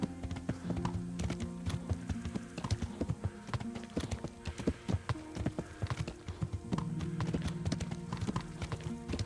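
Horse hooves in the video game Kingdom Come: Deliverance, a steady rhythmic clip-clop of close, crisp hoof strikes continuing throughout at an even trotting pace.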